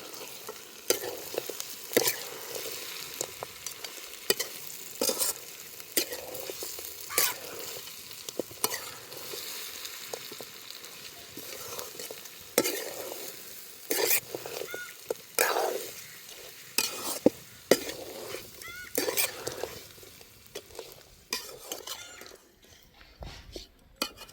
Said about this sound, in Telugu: మసాలా చికెన్ పట్టేలాగా కలుపుతున్నా